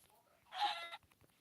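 A single short Minecraft chicken cluck sounds once, fairly faint, against near silence.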